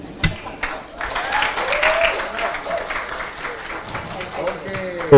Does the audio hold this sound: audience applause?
yes